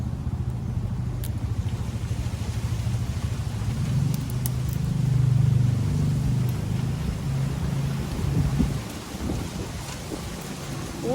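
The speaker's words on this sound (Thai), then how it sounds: "วันนี้ลมแรงนะคุณผู้ชมลมแรงมากเลย" Strong wind buffets and roars in a deep continuous rumble outdoors under an overcast, stormy sky, swelling louder in gusts, with no voices.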